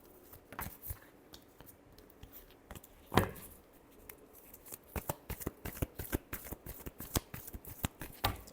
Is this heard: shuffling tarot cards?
yes